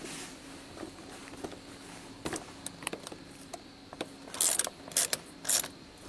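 A new socket on a ratchet wrench working a stubborn bolt loose, a series of separate mechanical clicks and knocks that build into louder metallic bursts near the end, with no talking.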